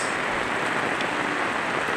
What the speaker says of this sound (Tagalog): hindi pa rin tumipil ang ulan, so napakalakas